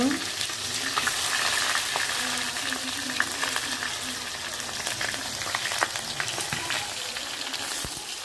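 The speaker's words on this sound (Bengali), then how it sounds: "এই যে পেঁয়াজ রান্না করছেন আমাদের" Onions fry in a pan with whole garam masala and five-spice seeds. A loud, continuous crackling sizzle fills the whole stretch, broken by scraping stirs and small pops, with no voices.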